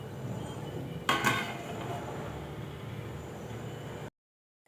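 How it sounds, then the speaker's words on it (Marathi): A lid is set onto a pan of stuffed brinjal curry with a single clanking metal knock, followed by a low steady simmer until the sound cuts out. "तर आता ह्याच्यावरती झाकण ठेवते."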